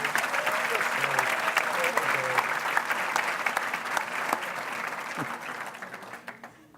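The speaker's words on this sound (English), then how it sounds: "Let's give him a round of applause." Banquet audience for a teacher award ceremony breaks into sustained applause, a dense wash of clapping from a large crowd that holds steady and then tapers off at the end.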